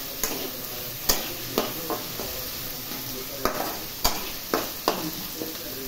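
A spoon scrapes and taps through tomato and vegetables (potatoes and peas) frying in a pan for upma, with about a dozen sharp metallic knocks at an irregular pace over a soft, steady sizzle.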